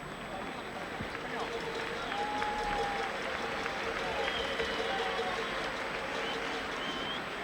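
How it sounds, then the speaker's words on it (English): Stadium crowd at a Spain v England football match applauding, a broad steady wash of clapping and crowd noise that stays loud and even throughout, with no distinct voices standing out. "And applause, let it be noted, from the Spanish crowd, not the boos and whistles we get from Wembley"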